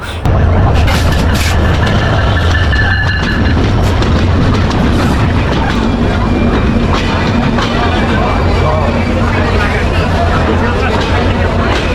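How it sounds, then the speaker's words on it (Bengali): The Benapole Express passenger train rolls loudly into a station in Jessore, Bangladesh, a heavy continuous rumble with rhythmic wheel clatter close by and crowd chatter around it. "ফাইনালে আমাদের একটা ট্রেন আসলো"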